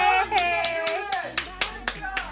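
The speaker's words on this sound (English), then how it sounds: "And you clap. No, you clap." Hands clap in a quick, uneven rhythm at a family birthday celebration, sharp claps sounding close while voices talk and sing along.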